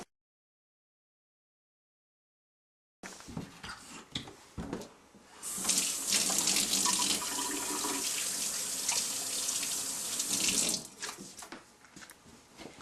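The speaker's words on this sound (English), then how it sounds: "The first step is to wash your hands." A running tap washes hands in a kitchen before cooking. Steady, close splashing water starts after a few seconds of silence, swells louder in the middle, then eases, with no voices.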